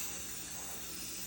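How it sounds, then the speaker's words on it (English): A steady, close hiss of spray paint from an aerosol can runs without a break for a second or so. "I'm going to spray right about here on the rim"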